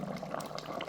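A dumpling pot boils over an open fire beside a river, bubbling and gurgling steadily for a brief moment.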